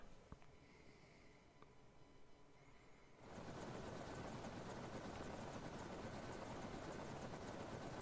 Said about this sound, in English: the planes don't land that slow. Just land it.